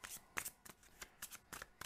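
A deck of obstacle discard cards from a card game is shuffled thoroughly, giving several quick papery riffling bursts in an uneven rhythm, close and fairly quiet with no talk.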